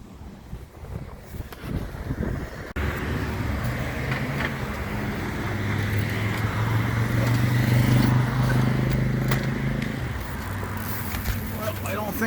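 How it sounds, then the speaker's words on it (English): An old-school motorcycle passes along a road in Dorval, Montreal, its low engine drone swelling and then fading under steady wind noise on the microphone. "It's probably just a motorcycle."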